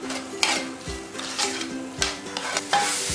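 Chopped plantain with sugar sautés in a pan, giving a steady close sizzle broken by several scraping stirs of a utensil against the metal.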